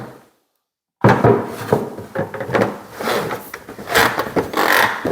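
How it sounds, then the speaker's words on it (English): A plastic locking lid is pushed and pressed down onto a dust collection bucket with a run of rubbing scrapes, knocks and snapping clicks, close by, after a brief silence. "Hear that locking lid?"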